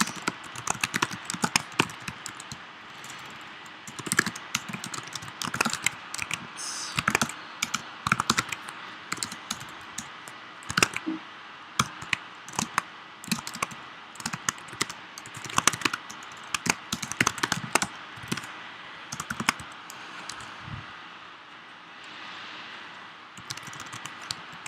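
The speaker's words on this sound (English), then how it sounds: "So I'm going to talk a little bit less and type a little bit more." Steady typing on a computer keyboard during a livestream, a long run of close, irregular clicking keystrokes in bursts with brief pauses, no talking over it.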